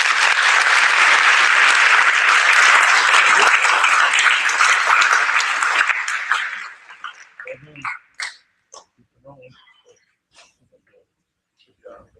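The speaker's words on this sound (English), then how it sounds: "So let's give him a round of applause." Audience at a high school NJROTC change of command ceremony claps loudly for the best cadet, a full burst of applause that dies away after about six seconds into a few scattered claps.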